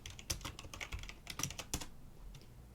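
Close, quiet typing on a computer keyboard, a quick run of crisp key clicks in uneven bursts that stops near the end, alone with no voices.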